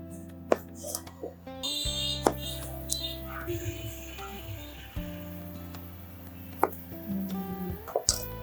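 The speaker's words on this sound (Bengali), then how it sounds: "বেগুনটা টুকরো করে ফেললাম।" An eggplant is cut into pieces with a knife on a board in a home kitchen. Sparse, separate knocks sound over steady tonal background music.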